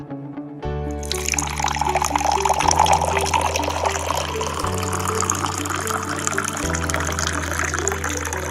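Water pours into a clay pot (ghada) in a Hindi stage play, a steady continuous splash and gurgle that starts abruptly and runs close and loud throughout, with a sustained low musical drone underneath.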